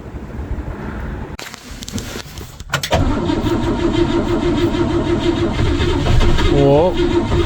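The engine of a 1958 Oldsmobile barn find, fitted with new spark plugs and wires, cranks in short bursts, catches, then settles into a loud, steady idle up close while people talk excitedly over it.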